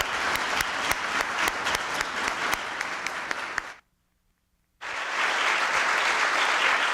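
An audience at a presidential tribute to historic preservation award recipients gives a steady round of applause that drops into total silence after a sudden cut, then returns just as loud.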